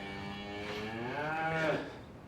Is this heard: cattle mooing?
yes